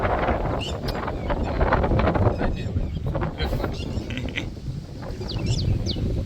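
Wind buffets the microphone in heavy low rumbling gusts during heavy rain in Dwarka district, Gujarat, loud and continuous, with faint clicks and brief high chirps in the background.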